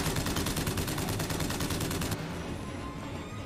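Rapid gunfire in BioShock Infinite, a loud, fast rattling string of shots for about two seconds that stops abruptly, leaving a quieter lingering combat background.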